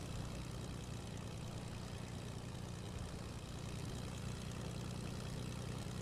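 Propeller plane engine droning in the Fortnite video game, a steady low hum that holds even and unbroken throughout, fairly quiet and with no voices.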